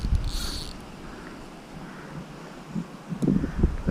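Gusty wind buffets the microphone beside a trout fishery lake on a summer day, a rumbling low roar that swells and drops, with a brief high hiss near the start and stronger gusts near the end.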